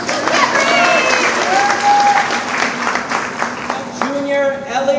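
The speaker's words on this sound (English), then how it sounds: "Round of applause for that." Audience applause for a girls' swim team captain at a Woburn/Burlington swim team event: dense, steady clapping from a crowd fills the room, with voices and cheers mixed through it.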